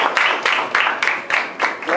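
A crowd applauds the final team at a live puzzle-competition event, with dense, steady clapping that pulses in loud waves and holds for the whole stretch.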